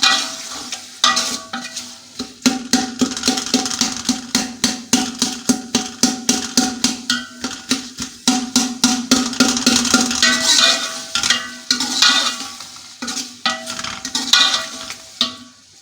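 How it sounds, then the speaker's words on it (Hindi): Kadhi masala with raw cumin seeds dry-roasting in a pan for kadhi pakora, a spoon scraping and stirring in quick rhythmic strokes over a steady sizzle, close and loud with no talking. "अब इसको भूनेंगे।"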